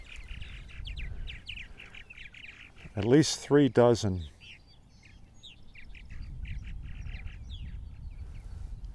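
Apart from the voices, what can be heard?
purple martins calling at nesting colony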